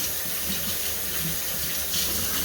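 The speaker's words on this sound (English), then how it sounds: "I'm going to rinse it off and then just set it in this warm," A plate being rinsed under a running kitchen tap in a sink, a steady close hiss of flowing water with no talk throughout.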